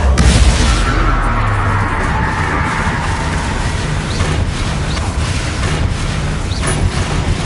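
Confringo fire blast spell going off in Hogwarts Legacy combat, opening with a heavy booming blast and followed by several seconds of rumbling, crackling aftermath and scattered impacts.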